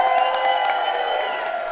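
Crowd applause and cheering for Jeff Berding at a live soccer talk show taping at Top Cats in Cincinnati, a steady wash of clapping and whoops sustained throughout, fairly close and full.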